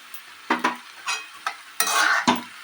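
A mashed banana mixture is stir-fried in a pan: a spoon scrapes and stirs in several short, separate bursts over a soft sizzle, close up and with no one talking.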